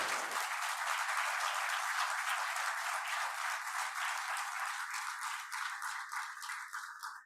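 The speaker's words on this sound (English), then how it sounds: "So give yourself a round of applause for being great parents." Steady, dense applause from a crowd at a city council meeting, many hands clapping at once for several seconds before it thins and fades out.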